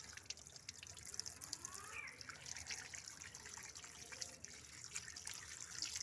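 Tap water runs and trickles faintly in a sink as small-scaled fish are rinsed clean, a quiet, continuous splashing with scattered drips.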